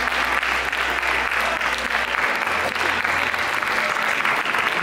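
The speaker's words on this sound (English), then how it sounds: "I hear five people clapping when I should hear the whole church" Scattered applause from a small handful of people in a church congregation, steady and sustained throughout, fairly close with a room-filling wash of claps and no voices standing out.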